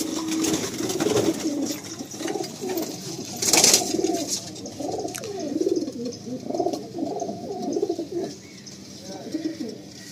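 Pigeons in the female section of a racing pigeon loft coo steadily in overlapping, rolling low calls, close and continuous throughout, with a brief sharp rustle partway through.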